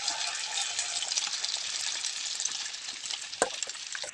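Around 100 grams of butter melting in a pan for making puttu: a steady, dense sizzling hiss close up, with one brief sharper clatter near the end.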